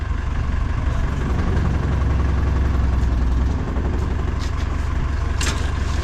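A Massey Ferguson MF 1200 tractor engine idles close by with a continuous low rumble and rattle, steady throughout with no talking.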